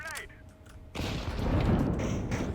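A grenade detonates on the Mirage map in CS:GO, a sudden loud broadband blast that rolls into a sustained rumbling roar lasting a couple of seconds, preceded by a brief tonal game sound.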